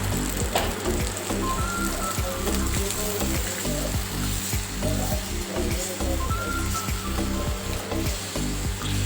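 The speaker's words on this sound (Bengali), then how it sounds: "আমি জল দিয়ে দিলাম" Water poured into a pan of pumpkin and potato curry seasoned with coriander and cumin sets off a steady, loud sizzling hiss with bubbling crackle, continuous throughout without talk.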